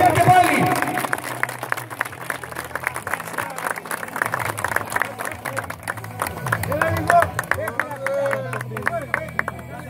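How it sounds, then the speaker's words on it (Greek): A crowd at a medal ceremony for a champions' parade claps in a dense, continuous patter that is loud and close for about ten seconds, with chatter and voices mixed throughout. "Ένα χειροκρότημα για να ξεκινήσουμε"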